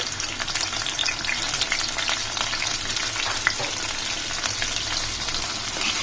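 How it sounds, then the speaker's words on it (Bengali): Chopped garlic and onion fry together in a generous amount of oil, producing a loud, bright, unbroken sizzling hiss close to the pan with no talk over it. "রসুন আর পেঁয়াজগুলোকে আমি একদম লাল লাল করে ভেজে নিব"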